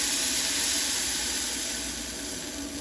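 Half a cup of water poured into a hot pan while making semolina vada sets off a loud, steady steamy hiss that eases slightly over a few seconds.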